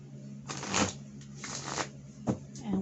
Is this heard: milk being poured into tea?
no